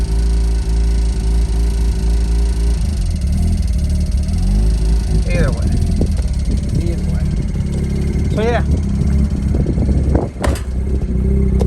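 A Mazda RX-8 rotary engine rumbles loud and close at a lumpy idle, with a few short throttle blips rising and falling over a voice talking through part of it.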